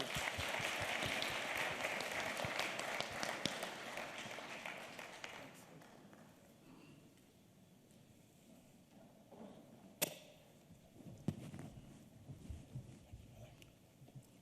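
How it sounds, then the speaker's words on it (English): Audience applause at a fintech summit: a loud, dense wash of clapping that fades out after about five seconds, leaving a quiet hall with a few scattered sharp knocks and rustles. "Can you please also give Warren another round of applause"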